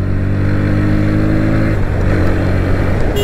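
A 2024 Bajaj NS125 motorcycle's 125cc engine revs loud and close, a steady droning hum that dips and shifts pitch partway through before a brief sharp burst at the end, with no talk.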